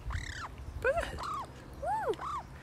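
Pet bird gives several loud, arching whistled calls in a row, close by, with a faint low rumble and a little background voice underneath.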